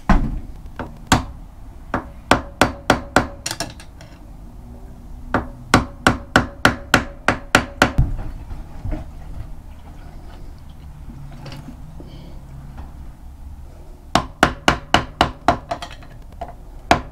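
Sharp metallic hammer blows come in quick bursts of five to eight strikes, with pauses between, while parts of a CFmoto 450MT motorcycle are knocked back together during a front sprocket change; the hits are close and loud, with no talking.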